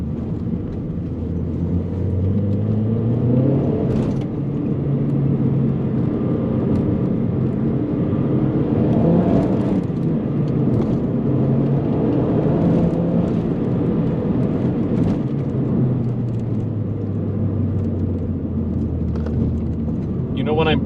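A 2009 Mazdaspeed3 accelerates hard from inside the cabin, its engine droning and rising in pitch through the gears with a steady road rumble, while someone talks over it throughout.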